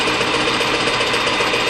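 A lathe turns metal with aluminum inserts during shock absorber repair, producing a steady, loud, buzzing machine drone with a fast rhythmic chatter throughout the brief cut.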